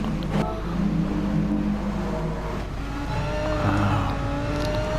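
An Audi race car spinning at Spa in a sim racing game, its engine a steady close drone with a rising whine and brief tyre squeal, mostly alone.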